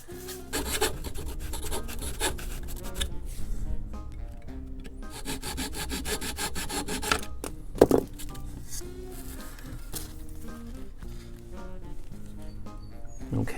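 Rhythmic scraping and rasping as the edges of balsa wing tips are trimmed on a vintage Barnstormer 25S RC plane build, repeated back-and-forth strokes close up with a sharp knock partway through.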